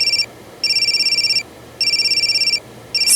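A telephone rings in a repeating electronic pattern, three bursts of bright tones separated by short pauses, loud and close with no talking over it.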